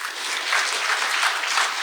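An audience claps steadily at a residents' briefing on the Changdong Jugong Complex 19 reconstruction, a dense, even patter of many hands without voices.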